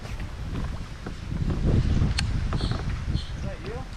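Wind gusting across a fishing boat on a windy lake, a continuous rumbling buffet on the microphone with faint splashes and thin squeaks.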